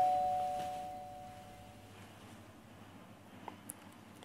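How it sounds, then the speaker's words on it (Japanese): A doorbell chime rings once in a quiet indoor room, its clear tones hanging and slowly fading over about two seconds, followed by near silence with a couple of faint ticks. "ピンポン。 来た。"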